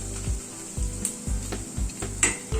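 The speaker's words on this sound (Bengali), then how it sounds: "আদা রসুন পেঁয়াজ সব মিনিট 3-4 সময় ধরে কষিয়ে নিলাম" Ginger, garlic and onion sauté in a pan with a steady, bright sizzle, punctuated by rhythmic low knocks and scrapes of a spatula stirring against the pan about every half second.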